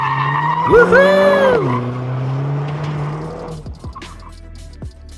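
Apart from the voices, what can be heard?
Mercedes-AMG A45 S 4MATIC+ drifting with tire squeal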